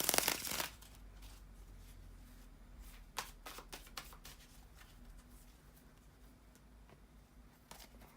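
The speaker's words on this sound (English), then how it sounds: "bear with me a second, guys, to just shuffle the cards" Cards are shuffled up close in a series of quick riffles and soft flutters, irregular bursts with quiet gaps between.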